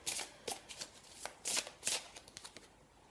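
A deck of tarot cards shuffled up close, a quick series of soft riffling flutters and taps in an uneven rhythm, fairly quiet, with no talking.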